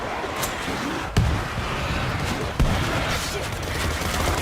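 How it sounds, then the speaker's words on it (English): In the World War Z zombie game, dense continuous gunfire roars amid a grenade throw, with two sharp, heavy impacts punching through the barrage a second or so apart. "Throwing a grenade."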